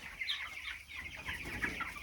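Three-week-old chickens on a South African poultry farm cluck and chirp in a steady, busy chorus, moderately close with no talk over them.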